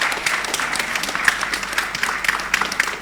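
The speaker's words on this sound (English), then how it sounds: "Give them a bigger round of applause." An audience applauds a university quiz team at a regional round, with dense, lively clapping that stays loud and continuous with no talk over it.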